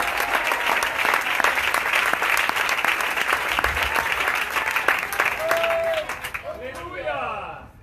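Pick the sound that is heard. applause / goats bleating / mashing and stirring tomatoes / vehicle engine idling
applause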